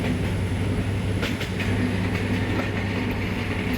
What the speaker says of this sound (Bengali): লোকোমোটিভের স্পিড বাড়তেছে